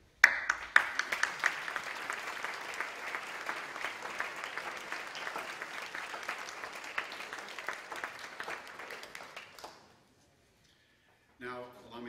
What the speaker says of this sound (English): You all deserve some applause